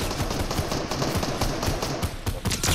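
Rapid automatic gunfire in a Fortnite match, a dense continuous burst of loud shots with no pauses and no talking.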